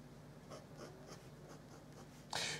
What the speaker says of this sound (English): this is the extra fine and it's generating a certain amount of nib noise